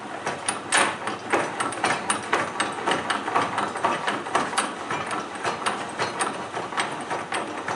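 Metal tools working on a toe board mechanism, with a pipe wrench in use, produce close, loud, irregular clanks, knocks and scraping taps over several seconds with no talking.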